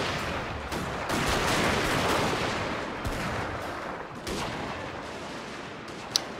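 Continuous gunfire and artillery from a battle in the Shogun 2 video game, with troops firing from a forest; a dense, steady rumble of volleys with a few sharper shots and one crisp crack near the end.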